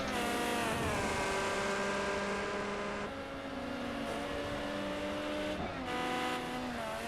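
A Ferrari 355 Challenge race car runs on a circuit at Azure, its engine a loud, sustained high-revving scream with gear-linked pitch shifts and a brief dip near the middle, heard close and alone.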